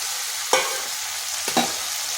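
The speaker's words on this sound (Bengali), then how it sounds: "এই মশলার সাথে ঢেঁড়সগুলো ভালো করে মিশিয়ে নিতে হবে।" Okra sizzles steadily in hot oil with spiced masala in a pan, a constant frying hiss broken by two brief scraping stirs of a spatula.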